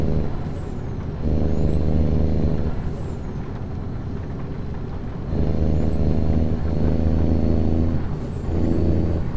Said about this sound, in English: This is the Jake break.